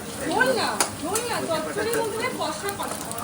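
Young goat meat curry sizzling and being stirred in a pot on a Bengali home-style stove, a steady frying hiss with scraping stirs throughout, with people talking over it.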